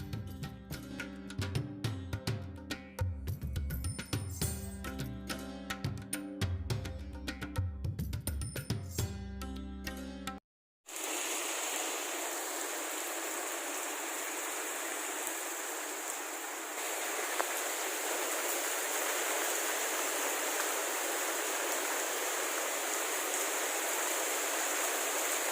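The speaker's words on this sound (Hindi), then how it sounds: "देख रहे हैं आप कितने मज़े की और कितनी अच्छी बारिश हो रही है।" Steady evening rain falls as a dense, even wash of hiss, loud and continuous with no voices, following a stretch of louder mixed sound that cuts off abruptly.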